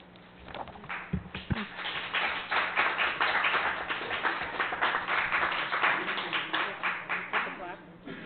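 An audience applauds in a city council chamber, with a sustained round of dense clapping close by and fairly loud, plus a couple of sharp knocks near the start.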